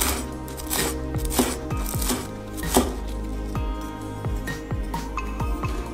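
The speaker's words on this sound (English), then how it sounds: "Next, slice a green onion." A knife slices a green onion on a cutting board for ramen, giving a quick, steady run of close, crisp chopping taps with no talk.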